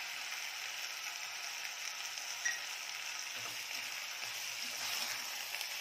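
Mutton pieces sautéing with salt in a hot pan for curry give off a continuous dense sizzle and crackle, close and fairly loud, with occasional soft stirring knocks and no voices.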